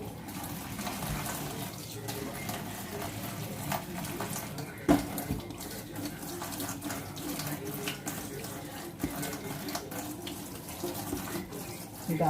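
Water runs from a sink tap in a continuous, fairly loud rushing stream with occasional clunks and splashes, and no speech over it.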